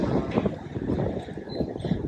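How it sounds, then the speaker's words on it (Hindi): Steady outdoor wind gusts and buffets a handheld microphone on a city walk in Karlsruhe, Germany, a dense low rumble with no pauses and no speech. "मस्त हवा चल रहा है ना।"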